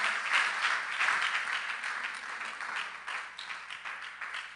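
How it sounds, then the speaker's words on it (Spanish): A church congregation gives a strong round of applause, continuous crowd clapping swelling and easing over a few seconds. "Dale un fuerte aplauso a Dios."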